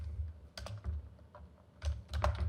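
Fingers tap on a computer keyboard in short, uneven bursts of clicks, near and fairly soft, with brief pauses between clusters and a low hum in the background.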